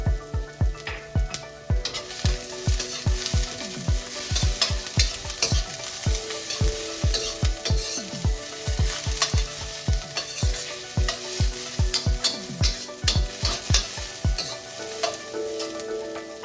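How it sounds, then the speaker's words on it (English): Chopped garlic and ginger sauté in a pan under a steady sizzle, with a quick run of rhythmic scraping and tapping strokes from a utensil stirring throughout, close by. "Add chopped garlic and ginger and sauté for a minute or two until fragrant."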